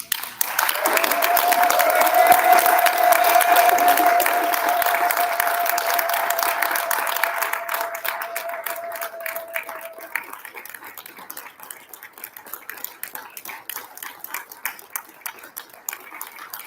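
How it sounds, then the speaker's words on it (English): Conference audience at a peace and healing plenary breaking into sustained applause, loud and dense at first with a long sustained tone from the sound system, then thinning into scattered claps as it fades. "please, a big applause to all of you"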